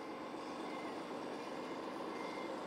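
Small heavy-duty equipment backs up with its reversing alarm beeping at a steady rapid pace. The beeps sit over a low, constant engine drone and are moderately distant and faint.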